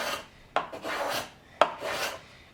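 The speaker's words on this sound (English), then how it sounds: "So I need to come back and put a little bit of chamfer here to protect that edge from blowing out." A hand plane cuts a small chamfer along a wooden edge in two or three quick rasping strokes, each opening with a sharp bite, close and fairly loud with no talk.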